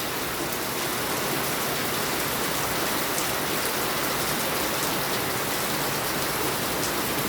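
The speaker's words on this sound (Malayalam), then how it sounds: "ഇപ്പം അതൊക്കെ കുറഞ്ഞു, മഴ മാത്രമാണ്." Heavy rain pours down steadily as a dense, unbroken hiss, loud and close, with no thunder now that the earlier storm has eased.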